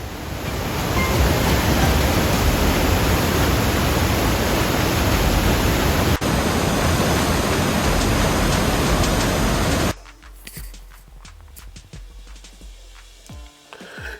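Athabasca Falls roars from a viewing deck close to the water: a loud, steady wall of rushing water that cuts off abruptly near the end, leaving only quieter ambient rustle.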